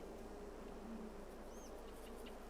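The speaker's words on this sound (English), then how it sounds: "it's something about listening to bees" Faint, continuous buzzing of bees in Farming Simulator 22 over a steady background hiss, with a brief higher chirp partway through; no voices.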